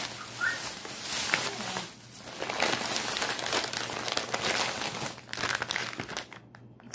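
Plastic bag holding dried fish and shrimp paste crinkles and rustles steadily for several seconds as it is handled and unpacked up close, with no talk.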